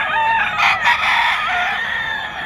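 A sweater-breed gamefowl rooster crows at a Bocaue, Bulacan pet market, one loud, close, drawn-out call with a couple of strained breaks and no talking over it.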